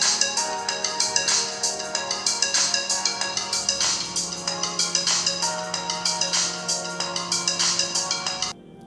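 A ringtone plays loud through the speaker of a Lava Benco V7 phone, a repeating bright, pulsing electronic melody that goes on steadily for about eight seconds and then stops abruptly.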